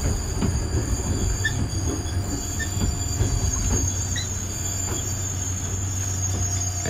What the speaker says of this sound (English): Here we are again on the train.